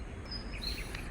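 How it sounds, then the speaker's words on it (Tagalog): Birds call over open rural fields at a site where land is being filled, with a few thin, high chirps standing out above a low rumble of background noise in a brief moment. "So marinig nyo ang mga tunog ng ibon."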